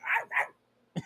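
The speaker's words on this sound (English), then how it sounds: "Why was Lassie a famous animal? Bark" A Lassie-style dog bark sound effect: two quick, loud barks back to back, a brief silence, then a third short bark, with no talking.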